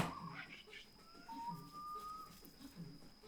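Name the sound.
bird whistling in 3 Pandas 2 video game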